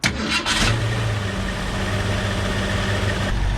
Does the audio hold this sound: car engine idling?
yes